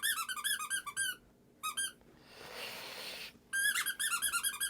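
A dog chomping a squeaky toy gives rapid bursts of high, whistling squeaks, two quick runs, a pause with a breathy rush, then another fast volley, close and fairly loud.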